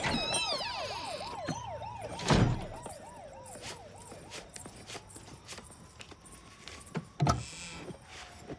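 An ambulance siren wails in a rising and falling cycle, loud and close at first, then fading as it moves on, with a couple of sharp bangs and street noise around it.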